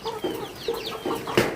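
Chickens on a small home farm cluck in short, close bursts, several calls overlapping in a quick uneven series.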